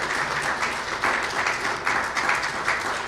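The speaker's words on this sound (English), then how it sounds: "Please give them a round of applause." Audience applause at a speech held at Ross University School of Veterinary Medicine, a steady, dense clapping that fills the room and carries on evenly without voices above it.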